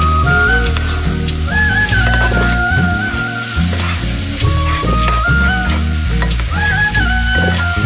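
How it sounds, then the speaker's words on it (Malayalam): Spice powders dry-roasting with elephant yam in a pan, a steady loud frying hiss with scraping stirs throughout, and music playing along underneath. "പച്ചമണം മാറുന്നത് വരെ ഒന്ന് ഇങ്ങനെ വറുത്തെടുക്കുകയാണ് ചെയ്യേണ്ടത്"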